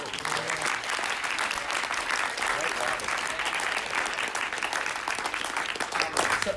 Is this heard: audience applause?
yes